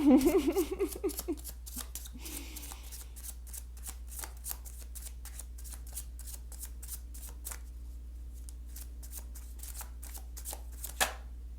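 A deck of cards is shuffled close by. A rapid riffle of flicking clicks carries on steadily over a constant low hum and ends in one final snap.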